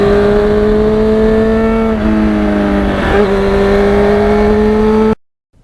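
A 1991 Yamaha FZR 1000 motorcycle engine running close and loud, holding a steady pitch, with a brief dip and shift midway as it moves through the gears, then cutting off abruptly.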